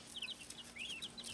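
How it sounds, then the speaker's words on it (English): Young farm chickens from a recent hatch, kept alongside ducks, give soft, high chirping clucks in quick, scattered bursts. The calls sound faint and fairly close over a low background hum. "There's our 3 ducks and our 10 chickens"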